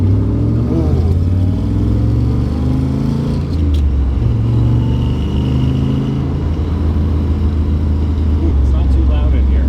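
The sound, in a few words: 1963 split window Corvette C2 engine while driving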